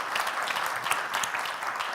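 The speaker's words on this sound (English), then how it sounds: "So I think we should applaud that" Audience applause fills a conference panel session at a government fintech event, a dense, steady wash of many hands clapping at moderate level with no gaps across the whole stretch.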